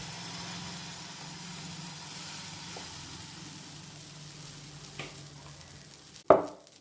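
Thick, uttapam-style millet dosa batter sizzling on a hot pan, a soft, even hiss heard close but faint, broken near the end by a single sharp clank of a utensil.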